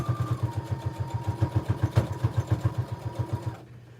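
A sewing machine backstitches the lining seam of a tote bag in a steady, fast run of needle strokes, close and fairly loud, which cuts off just before the end.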